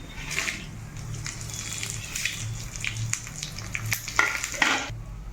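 Curry leaves and dried red chillies crackle and sizzle in hot tempering oil for a gongura pickle, a continuous close frying hiss with scattered pops and stirring clinks, with no talk.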